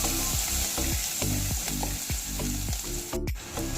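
Crushed garlic and green chillies frying in hot oil with tempering spices: a dense close sizzle broken by rhythmic stirring scrapes about twice a second, no voices.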